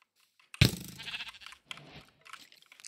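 Sheep bleating in a Minecraft survival game at night, a sudden loud bleat followed by a few shorter game sounds and clicks, with no talking.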